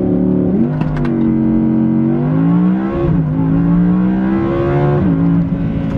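A 2017 Audi R8 (non-Plus) accelerating hard on a timed run after a tune, its engine note rising steadily through the gears with brief dips at each shift, loud and close throughout.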